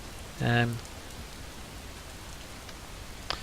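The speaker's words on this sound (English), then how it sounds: "in the dark and damp and in the rain, we will end that episode" Steady rain falls in the Skyrim video game, a continuous soft hiss throughout, with a brief voiced sound early on and a faint tick near the end.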